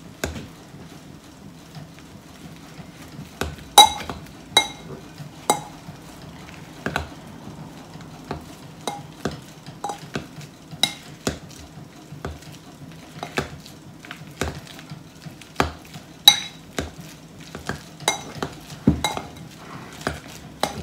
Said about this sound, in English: Maybe I should get something bigger. A potato masher instead.